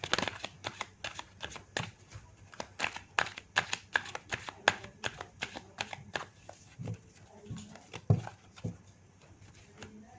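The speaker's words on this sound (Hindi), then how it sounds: "मैं आपके लिए कार्ड शफल कर रही हूँ" Tarot cards being shuffled by hand, a steady run of crisp riffling flicks and slaps close up, with a few heavier taps near the end and no talking.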